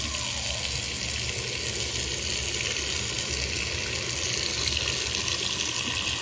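Kohler Kaori kitchen faucet running steadily into a sink, a continuous close hiss of flowing water with no talk.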